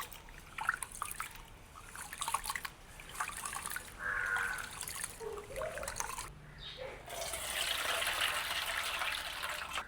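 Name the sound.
washing rice in water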